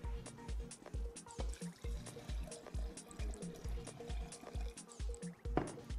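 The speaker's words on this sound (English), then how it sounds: "I am going to add in about 400 mils of milk." About 400 ml of milk is poured into a mixture, giving a faint, steady liquid trickle with soft rhythmic drips, heard close and quiet.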